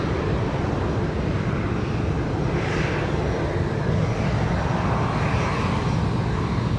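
A Qantas A321 airliner at Sydney Airport at night gives a distant, steady jet rumble that swells slightly. It is faint and broad, with no talk.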